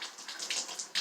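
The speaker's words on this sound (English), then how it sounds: "I kind of wring everything out a little bit before I do the rinse cycle" Cloth flat diapers being hand-washed and wrung out in water give close, splashy sloshing and trickling in short uneven surges, with no talking.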